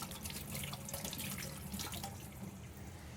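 Warm water runs from a sink tap in a steady, even splashing stream, moderately close and continuous throughout, with no voices over it.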